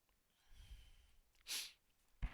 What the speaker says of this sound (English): Sorry about the sniffles.